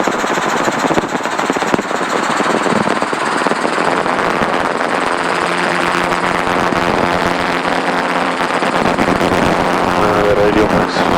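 A helicopter engine spools up to higher RPM during pre-flight preparation, a loud continuous turbine roar with rising whine tones and rhythmic rotor chop, close and steady throughout.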